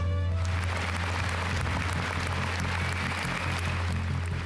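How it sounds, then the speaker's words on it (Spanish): Sustained applause for Ukraine's national basketball team, which played Spain while the country was being invaded by Russia, fills the whole stretch with dense, steady clapping and no pause. "Aplausos y apoyo"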